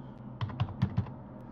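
Four distinct keystrokes on a computer keyboard, entering a short number, crisp close clicks spaced evenly in a quiet room.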